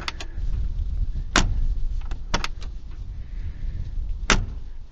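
A 2008 Mercedes G55 AMG rear door is handled with a few sharp clicks and thuds, ending in a firm slammed shut, amid quiet interior background noise.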